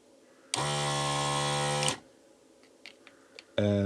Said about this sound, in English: And there's no slowdown of the fan anymore.